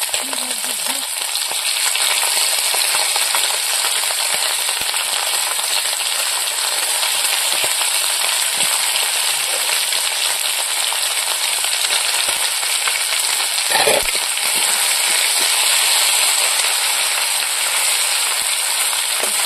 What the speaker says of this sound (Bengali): এবার বাটাগুলো ভালো করে মাছের সঙ্গে মিশিয়ে নেবো, ভালো করে নাড়াচাড়া দিয়ে দেবো